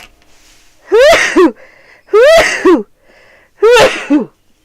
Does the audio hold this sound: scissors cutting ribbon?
no